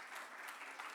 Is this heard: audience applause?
yes